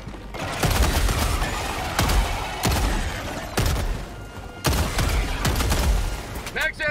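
Autocannon fire in the Helldivers 2 video game: several heavy, booming shots spaced about a second apart, each followed by a sustained roar, loud and close, with game voice chatter underneath.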